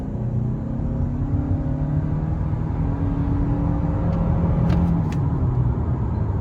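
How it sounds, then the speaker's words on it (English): A 2025 Toyota Camry SE in sport mode with all-wheel drive pulls away at full throttle, its engine a steady, low rumble that rises gently in pitch under a constant road roar, with no one talking. "I'm in sport mode now, which gives you a little bit more torque. And let's give it a full throttle."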